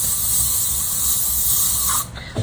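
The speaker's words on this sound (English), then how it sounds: "I'm mainly spraying the ends of my hair like that" A steady, loud hiss of Nivea Diamond Gloss Care hairspray sprayed onto the ends of hair, one continuous burst that stops abruptly near the end.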